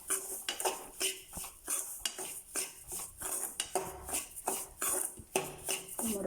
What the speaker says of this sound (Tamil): இப்போது நெய் நல்லா சூடாயிடுச்சு. நம்ம ரவாவை பொரிச்சிக்கலாம்.